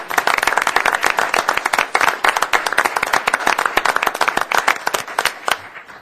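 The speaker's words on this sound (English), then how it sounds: "And let's, everybody give them a round of applause." A city council worksession audience claps for committee members standing in the room; steady, dense applause of many hands, fairly close and lively, running the whole stretch and thinning slightly near the end.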